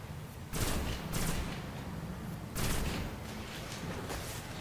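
Rapid bursts of gunfire in the video game Destiny, three or four dense volleys cracking out in quick succession over a constant background hiss, fairly faint overall.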